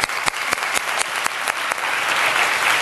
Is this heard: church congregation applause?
yes